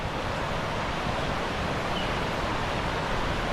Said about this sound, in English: just the sounds of the roaring waterfall